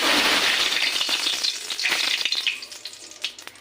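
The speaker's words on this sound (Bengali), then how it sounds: "এবারে তেলটা গরম হয়েছে আমি শুকনো লঙ্কা তেজপাতা ফোড়ন" Dry red chillies and bay leaves hit hot oil for a tempering, giving a loud, bright crackling sizzle close up that fades into scattered pops and spits toward the end.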